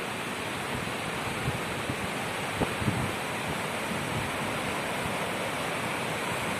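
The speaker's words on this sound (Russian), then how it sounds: "Вон она, речка." Mountain river rushing nearby, a loud, steady broadband roar of flowing water that continues unchanged throughout, with no voices.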